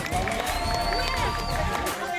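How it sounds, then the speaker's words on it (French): A festival crowd applauds and cheers loudly for a runner after a speedrun competition result, a dense steady roar of clapping, voices and whistles with no clear speech. "on peut l'applaudir très fort"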